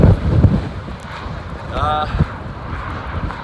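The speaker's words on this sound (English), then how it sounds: "it's windy, as you can probably hear" Gusty wind buffets the microphone in loud, uneven rushes, with a brief voice-like sound in the middle.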